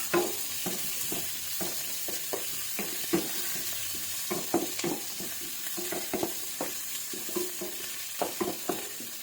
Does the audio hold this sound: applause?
no